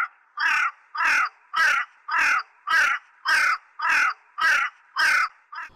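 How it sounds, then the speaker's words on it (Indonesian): A crow's cawing played from a recording: about ten harsh, evenly spaced caws in a steady rhythm, loud and close, with nothing else behind them. "Ini suara burung gagak."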